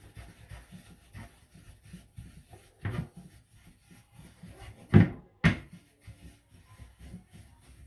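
A sharpening stone is rubbed over a flattening plate in short scraping strokes, irregular gritty rasps of moderate loudness with a couple of louder knocks near the end.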